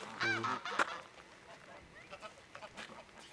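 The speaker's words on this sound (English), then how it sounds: "Big geese." Geese honk a few times nearby, loud at first then fainter calls scattered over a noisy outdoor background.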